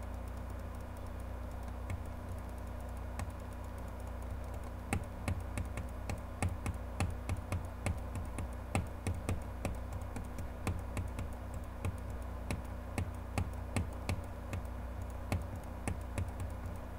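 Computer mouse clicking away at the Cookie Clicker game, a steady run of quick, light, close clicks that starts a few seconds in and continues to the end over a constant low hum.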